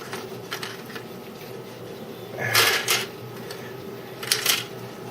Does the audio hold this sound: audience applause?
no